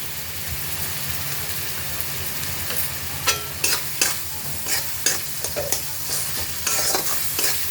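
Spice paste with a little sugar and hing stir-fried in oil in a pan, giving a steady low sizzle with scattered scraping clicks of a spoon that grow more frequent toward the end, with no talking.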